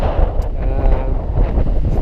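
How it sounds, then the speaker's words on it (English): Strong wind gusting up through the trees on Binevenagh Mountain in the Sperrin Mountains: a steady, loud, rumbling roar with buffeting across the microphone and no pause. "Hear the wind going up through the trees."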